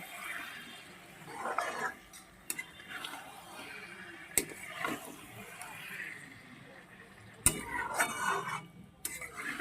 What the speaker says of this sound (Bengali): মাংস দিয়ে আরও অনেকটা সময় কষাতে হবে তো এবার ভালো করে কষিয়ে নেব